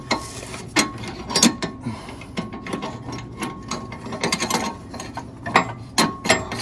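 A ratchet socket wrench clicks on a VW Type 4 engine being removed from an abandoned Porsche 914, short close bursts of ratcheting separated by brief pauses, no talking.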